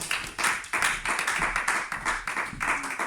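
A church congregation applauds the Lord together, a dense and steady wash of many hands clapping in rough rhythm at close range, with no talking over it.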